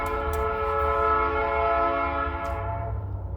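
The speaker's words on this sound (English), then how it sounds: "So the train horn" A loud train horn sounds a sustained harmonic blast at a Texas crossing, close and steady, with a low rumble from the passing train beneath it.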